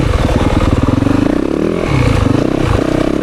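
A 2024 Yamaha YZ450FX dirt bike engine pulls hard in sixth gear on a woods trail, a loud close pulsing four-stroke drone with rhythmic firing and slight pitch swells as the throttle shifts.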